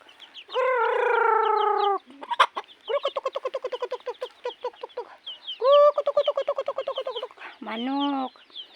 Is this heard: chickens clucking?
yes